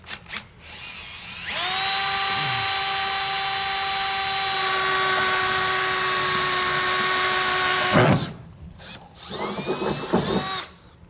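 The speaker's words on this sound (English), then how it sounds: "So we'll go ahead and get our first hole drilled." A power drill bores a hole through a 2018 Ram 2500 truck bed for carriage bolts, one loud steady whine lasting several seconds up close, then winding down, followed by a brief second burst.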